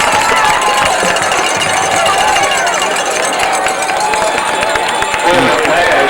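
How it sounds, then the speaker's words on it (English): A crowd at a 1996 high school football game between Magnolia and Monroe Central cheers loudly and steadily across the whole stretch, a dense roar under a commentator's voice. "A lot of cheering on the Monroe Central side of the field"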